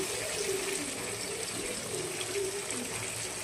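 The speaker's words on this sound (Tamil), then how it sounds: "தண்ணி ஊற்றி வாஷ் பண்ணி ஊற்றிடுவேன்" Water poured into a pan to rinse ground masala paste in from its container, a steady close splashing and gushing that runs evenly for the whole stretch.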